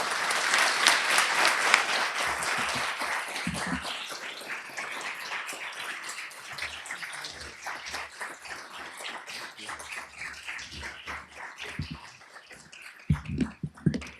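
An audience at a Harvard lecture applauds loudly to welcome a speaker to the stage, a dense wash of clapping that slowly thins into scattered claps and a few louder final ones.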